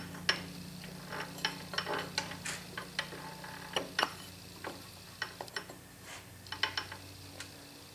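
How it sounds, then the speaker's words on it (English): An 80-tooth idler gear is fitted onto a South Bend lathe, giving a quiet series of irregular metallic clicks, ticks and light clinks of parts being handled close by. "The 80-tooth gear, which they call an idler."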